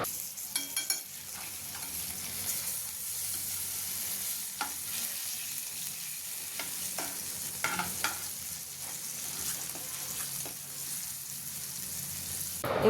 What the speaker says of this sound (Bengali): খুব অল্প আঁচের এই তন্দুরিটাকে ভাজতে হয়।